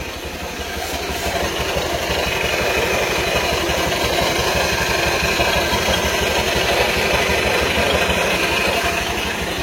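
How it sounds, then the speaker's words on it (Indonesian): A Honda Vario 150 scooter idles steadily up close, its CVT transmission adding a continuous scraping, rattling noise over the low engine hum, with no voices. "Cuma suara CVT-nya yang berisik yang mengganggu itu Mbah."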